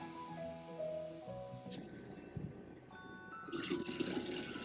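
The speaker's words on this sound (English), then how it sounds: "Here's my 8 cups of water," Eight cups of water poured for a sugar mixture, with running tap and splashing liquid filling a container, a quiet steady flow with a couple of louder gushes, close by and without talking.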